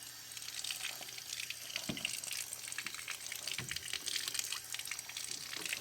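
A rinse spray hisses faintly against a car's intercooler fins during cleaning, a soft, continuous watery wash with a few small splashy bursts.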